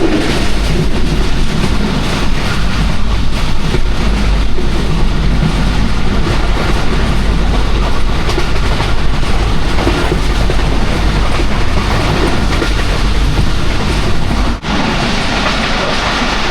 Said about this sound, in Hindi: मेन लाइन पे गाड़ी बड़ी पुरसकून सी स्मूथ सी जा रही है।